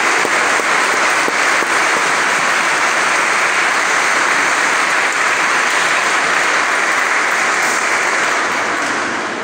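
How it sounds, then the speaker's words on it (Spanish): A church congregation applauds after a baptism at a Sunday Mass, loud, dense clapping sustained for about nine seconds and easing slightly at the close. "Un aplauso para Él, para Carlos, felicidades."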